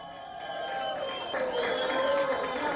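A crowd outside the presidential palace in Venezuela, cheering and shouting at a moderate distance, a steady wash of voices that swells toward the end.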